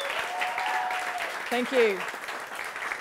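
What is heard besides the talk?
audience applause at event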